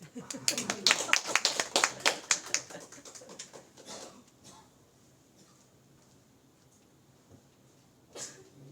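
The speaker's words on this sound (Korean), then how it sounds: "큰 박수로." Short burst of clapping in a church service, close and fairly loud for about four seconds, then dying out to quiet, with one brief sound near the end.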